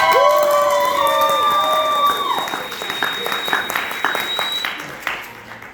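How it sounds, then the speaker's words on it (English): A crowd at a Ramencon ramen eating contest cheers and applauds loudly with whoops and shouts. The sound starts at full strength and slowly fades over several seconds. "Let's cheer him on."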